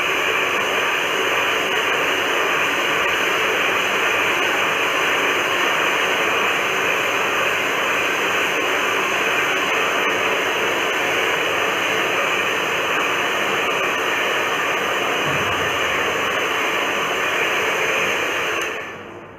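A heavy hair dryer blows continuously while hair is straightened with a paddle brush. It makes a loud, steady whooshing roar held close throughout, then cuts off abruptly at the end.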